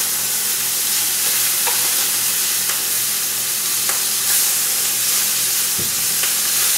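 Eel stir fry sizzles steadily in a frying pan, a continuous loud hiss of frying with occasional stirring scrapes and a soft clink near the end, no voices.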